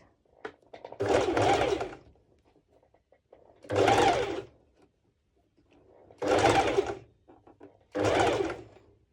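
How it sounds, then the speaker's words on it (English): A sewing machine stitches over four layers of fabric for a sporty top with mesh overlay, running in four separate loud bursts of fast whirring with quiet pauses between. "I'm stitching over four layers of fabric"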